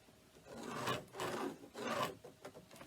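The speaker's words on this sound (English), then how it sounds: "we're going to draw a 1-inch line, or a line 1 inch from the edge, on the 2 sides and the bottom" Marking pen dragged along cork bag interfacing, drawing lines an inch from the edge; three scratchy rasping strokes, close and clear, with no talking.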